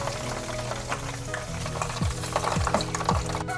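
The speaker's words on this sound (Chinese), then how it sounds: "我们现在要先炸鸡肉" Chicken pieces deep-fry in hot oil in a wok for spicy Szechuan chicken, a constant sizzle under repeated metal scrapes of stirring, close by with no talk.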